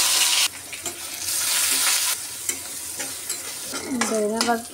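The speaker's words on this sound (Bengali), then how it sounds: "এখন ধনিয়া পাতাগুলো ভেজে নেব।" Coriander leaves fry in hot oil with a loud, dense sizzle and crackle, broken by a few stirring scrapes. A brief tonal squeak comes near the end, and no one speaks.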